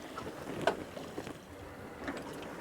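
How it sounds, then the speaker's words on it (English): A 28-foot boat motors across open sea, its engine a steady low drone mixed with wind and water wash, with a few faint knocks and no talking. "The engine has been going on for 16 hours."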